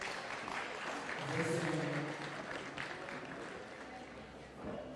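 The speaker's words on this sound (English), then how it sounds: "Round of applause for Faith, please." Audience applauding a fighter called to the stage at a boxing press conference, steady moderate clapping throughout with a voice speaking over it.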